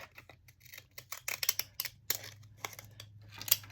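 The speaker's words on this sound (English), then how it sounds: "These are Arabian fancy scissors. Let's just use them. Just gonna do them on the end." Arabian fancy scissors snip repeatedly through paper in quick, irregular cuts, crisp and close but quiet, over a low steady hum.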